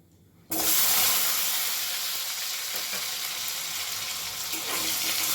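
Potatoes hit hot oil with a sudden loud sizzle that keeps crackling and hissing steadily after the initial burst.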